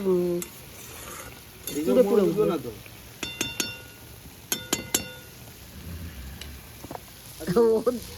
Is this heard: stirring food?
yes